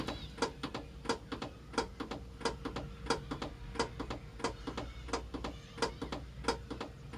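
Motorcycle rear brake pedal being pumped repeatedly on a Harley FLHS after caliper repair, a steady run of sharp mechanical clicks and ticks in an irregular rhythm, fairly faint and close, without talk.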